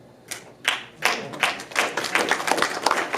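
An audience claps in a public-speaking setting after a quote is read aloud. The applause is moderately close and builds from a few scattered claps into steadier clapping over about three seconds, with no talking.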